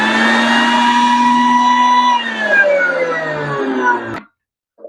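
Electric mixer grinder blending bhringraj leaves, a loud, steady motor whine that drops in pitch as the load shifts, then winds down and stops abruptly into silence.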